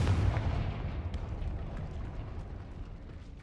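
A Confringo fire spell explodes in Hogwarts Legacy, a loud booming blast with a heavy low rumble that stays dense and slowly fades over a few seconds, with no speech.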